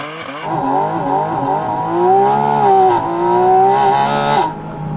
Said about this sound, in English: Now let's just check out the launch on this car.